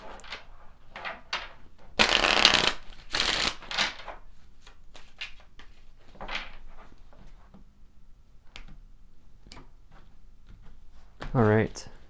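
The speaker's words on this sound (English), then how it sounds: "We'll pull the Kipper cards, see what wants to come forward." Kipper cards being shuffled in a card-reading session, a dense riffling burst near the start followed by scattered soft card taps and slides, with a few short handling bursts later under otherwise quiet room tone.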